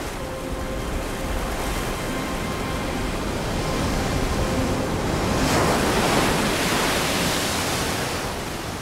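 Ocean waves crashing and washing over coastal rocks, a loud continuous roar of surf that swells toward the middle and then eases slightly, with no voices.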